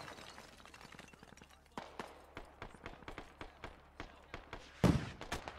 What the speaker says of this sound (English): And more mortars.